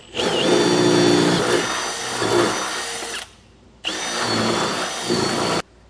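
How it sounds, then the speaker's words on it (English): A power drill bores through the top of a pickup truck bed, a 2021 Chevrolet Silverado, while installing an underbed gooseneck hitch. It gives two long, loud, steady whining runs with a short pause between them. "now I'm going to drill through the top on this one."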